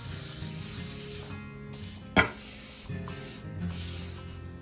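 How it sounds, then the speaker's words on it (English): Nonstick cooking spray hisses from a can into a 9x13 baking dish in several short, close bursts separated by brief pauses. "Got my nonstick cooking spray. We're gonna spray this really good,"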